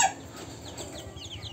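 Native deshi hens on a farm clucking, soft short chirpy calls repeating in a loose rhythm after a brief louder note at the start, fairly close and quiet with no talk.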